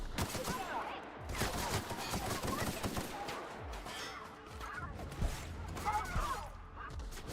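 Rapid gunfire bursts crackle through a firefight in the sci-fi game The Outer Worlds, dense volleys and single shots overlapping with someone talking over the action.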